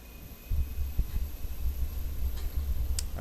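Fenix A321 with IAE engines spooling up to full thrust in Microsoft Flight Simulator 2024, a steady deep low rumble and hum that builds slightly and holds throughout, with a faint high whine above.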